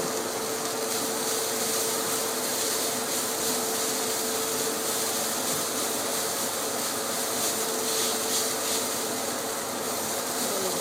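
A kitchen extractor fan runs over the stove, a loud, steady whooshing drone with a faint constant tone, unchanging for the whole stretch and free of speech.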